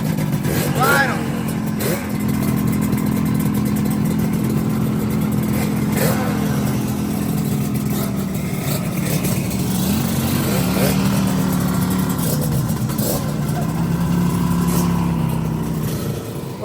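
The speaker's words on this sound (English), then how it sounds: "I know those two strokes are uber valuable." Several vintage two-stroke motorcycles ride past at a dirt event, their buzzing, ringing engines revving and rising and falling steadily and loudly throughout, with voices talking over the noise.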